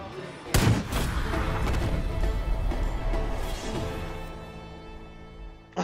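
A rifle fires in the video game Far Cry: one sharp, loud boom with a long rolling echo that fades out, followed by quieter rumbling and no talk.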